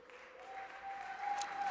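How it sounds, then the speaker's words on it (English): Audience applause during a Pennsylvania governor's 2025 budget address, a steady wash of clapping from a large crowd that swells slightly toward the end, heard alone without speech. "you may want to hold your applause for a sec"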